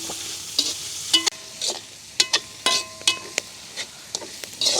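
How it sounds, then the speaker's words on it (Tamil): Onion, cabbage, carrot and leeks are stir-fried in a pan outdoors in a village kitchen. A sizzle runs throughout, with repeated sharp scrapes and clanks of the spatula against the pan at an irregular pace, heard up close. "நாங்கள் அடுத்ததாக வந்து வட்டி வச்சிருக்கிற கேரட்டையும் லீக்ஸையும் சேர்க்க போகிறோம் அப்படியே நல்ல வடிவாக பிரட்டி விடணும்"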